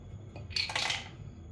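Blueberries and ice cubes tumble into a mini Nutribullet blender cup, a short, close rattling clatter of hard pieces hitting plastic that lasts about half a second.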